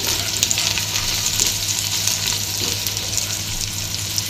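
Onion and green chili sautéing in hot oil for chicken biryani, a loud continuous hiss and crackle close up with faint stirring, no voices.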